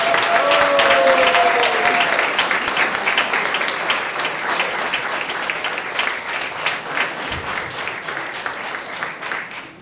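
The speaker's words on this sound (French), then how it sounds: "Une bonne main d'applaudissement, s'il vous plaît." Loud, steady applause from a crowd at a volunteer recognition gala, a dense wash of clapping that carries on throughout and eases slightly toward the end.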